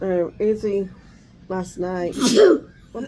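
A single sharp, close sneeze bursts out between stretches of casual spoken chatter, loud against the surrounding talk.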